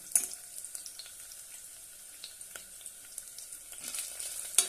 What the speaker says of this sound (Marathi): आता यामध्ये अर्धा चमच आला लसणाची पेस्ट घालूया